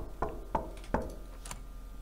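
Three sharp knocks on a door inside a haunted convenience store horror game, evenly spaced over roughly a second, followed by a fainter thump, heard alone against a low ambient hum.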